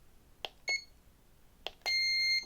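An RC aircraft transmitter for a Sport Cub S gives short trim-click beeps, then a sustained long high tone marking centered trim; two brief chirps precede each long beep, all crisp and close in a quiet room.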